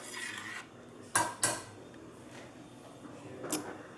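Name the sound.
stirring spices into gumbo in a pot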